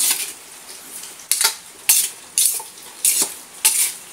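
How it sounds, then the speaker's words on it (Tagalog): A spatula scrapes and clanks against a pan six times in a slow, even rhythm while vegetables and green chili are stirred, with a faint sizzle underneath. "Haluin natin."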